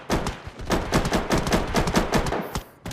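Shotguns fire in a video game, loud and up close, with a rapid, dense string of blasts following one another through the whole stretch.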